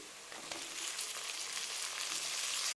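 Tomatoes, curry leaves, salt and lentils fry in a hot pan, giving a steady, dense sizzle that holds level throughout with faint crackles, alone with no talk.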